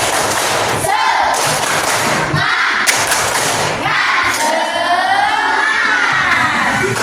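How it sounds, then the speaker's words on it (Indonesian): A class of schoolchildren performs a rhythmic spirit clap in a classroom, loud unison claps and chanted shouts in patterned bursts, close and energetic, with voices joining between the beats. "Yuk, tepuk semangat."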